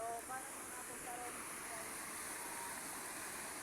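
Water rushing steadily down a rural stream or waterfall in the Philippine countryside, a constant broadband hiss filling the scene, with brief faint voices near the start.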